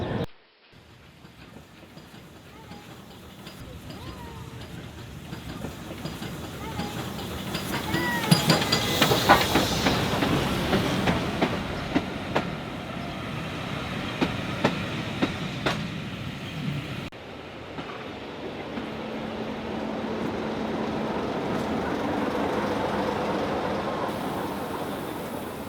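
A steam train approaches at Seaford with rising hiss and rumble, steam bursts and clanking growing louder, then settling into a steady rolling noise.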